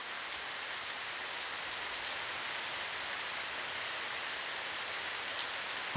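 Steady, soft rain falls outside a remote hot-spring inn in wintry Tohoku, a continuous even hiss heard alone with no voices, moderately distant and unbroken throughout.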